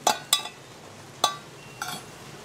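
Burnt leftover material is poured out of a DIY stainless steel woodgas camping stove, giving four separate sharp metallic clinks and rattles spaced irregularly and fairly close.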